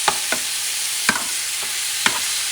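Plantains fry in a pan over heat just above medium, with a steady hissing sizzle. A few sharp scrapes and taps of a utensil sound against the pan, and no one speaks.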